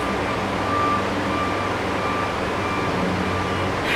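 Steady repeating reversing beeps from a truck, tonal and continuous with no break, loud and close over a dense rumbling bed of engine and traffic noise.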